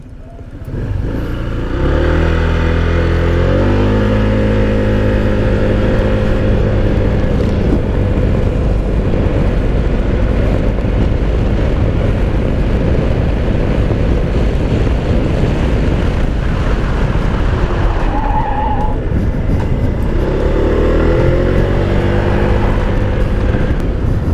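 Loud, steady engine roar of a Honda ADV 160 scooter at top speed, holding a high drone with some rising pitch changes, mixed with heavy wind rush against the microphone.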